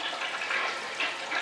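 A toilet flushing while being fixed to flush reliably without chemicals, with paper in the bowl: a steady, fairly loud rush of water runs throughout with slight surges and no voices.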